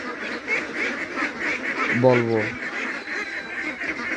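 A single short, nasal quack rings out from ducks on a farm of about 250 birds, set against steady barnyard background and someone talking nearby.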